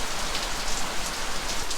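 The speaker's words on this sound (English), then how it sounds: "A little bit of rain." Steady rain pours down on a surface during a heavy overnight storm, a dense continuous hiss of drops with no talking.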